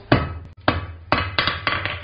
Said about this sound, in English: Using the rounded face of my hammer,